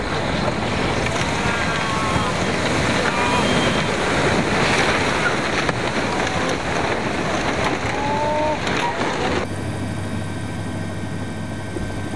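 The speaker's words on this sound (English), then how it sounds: "Water is gushing in Miyako City of Iwate Prefecture." Tsunami water gushes through Miyako City on the Sanriku rias coast of Iwate Prefecture after an earthquake. A loud, continuous churning roar is mixed with buffeting wind noise and a distant engine-like drone.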